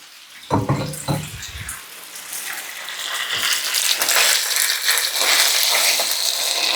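Steady sizzling hiss of beef frying in a pan, building and holding loud after a few clattering knocks at the start.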